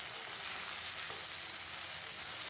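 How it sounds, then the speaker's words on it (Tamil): Mint and coriander leaves sautéing in a hot pan for chutney give a steady, dense sizzle that holds evenly throughout, with no voices; the sound drops off abruptly just before the end. "இப்போ மல்லித்தழையும் புதினாவும் லைட்டாக வதக்கினாவே போதும்."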